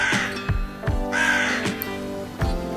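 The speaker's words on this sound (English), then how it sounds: "This bird is crow." A crow caws in a few harsh, rasping calls spaced roughly half a second to a second apart, close and clear over a steady low background hum.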